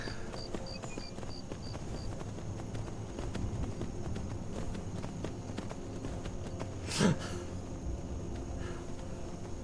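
Horse hooves clip-clop in the video game Skyrim, soft and somewhat distant over a low outdoor ambience with faint insect chirps, broken by one brief sharp knock near the end.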